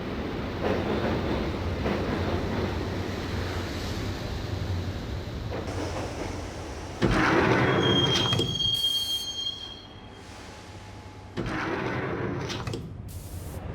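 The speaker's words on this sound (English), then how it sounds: "the train doors had already shut behind me, and I was in for the ride" Train ride in Max Payne (2001), a subway car rumbling steadily with wheels squealing loudly in a sustained high screech midway, then quieter rolling before the clatter resumes.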